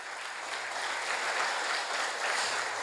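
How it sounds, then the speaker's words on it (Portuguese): A church congregation applauding loudly and steadily together, a dense continuous clatter of many hands with no speech over it. "Aplaude a Ele, bem forte"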